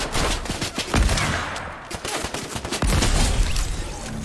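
Rifle gunfire in the Apex Legends video game, a hunting rifle among loud sharp shots fired in quick succession over dense battle noise.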